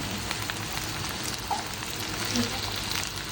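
Washed okra fries in a pan of hot oil, a steady soft sizzle with faint crackles and a few small clinks, close and fairly quiet.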